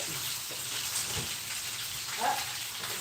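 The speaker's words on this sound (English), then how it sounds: "My rice is boiling." A pot of rice boils on a kitchen stove, a soft steady bubbling and hissing with faint pops, heard alone at low level.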